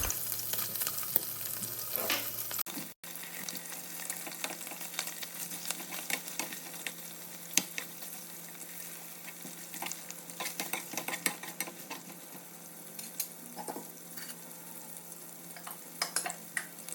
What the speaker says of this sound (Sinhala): දුමුරු පාට වෙනකම් බැද ගන්නවා.